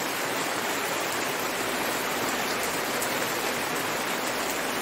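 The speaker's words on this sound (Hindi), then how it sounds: "यहाँ पे बारिश हो रही है" Rain pours steadily outdoors, a dense and constant hiss of falling water that stays loud and even throughout, with no voices.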